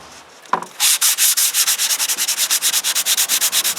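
Sanding of white-painted wood cabinet doors between brushed coats, a loud, close rhythmic rasp of quick back-and-forth strokes after a single knock.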